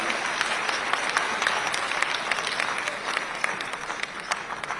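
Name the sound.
audience applause welcoming the Chief Minister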